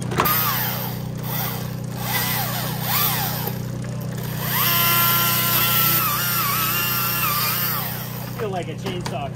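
A chainsaw cuts and carves into a huge maple tree, its engine droning steadily and rising in intensity as someone talks over it.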